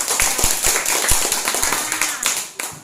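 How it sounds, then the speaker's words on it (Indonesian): Children clap their hands in a classroom religion lesson, a quick run of loose, uneven claps with a few sharper individual hits, close and lively for under three seconds. "Mari kita tepuk tangan"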